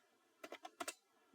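A short burst of about five key clicks as commands are typed on a computer keyboard, close and crisp, clustered in quick succession amid near silence.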